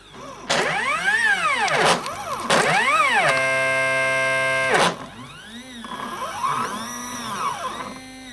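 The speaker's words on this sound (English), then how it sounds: "Let's have a little look at the stepper motors as they're moving." Stepper motors on a CNC machine whine through rising and falling pitch sweeps, with a steady held tone in the middle, loud, close and continuous as the axes move.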